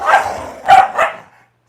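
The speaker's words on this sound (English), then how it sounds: "the dogs are playing" Dogs barking while playing indoors, three sharp barks in quick succession, the first softer and the next two louder and close, with no talking.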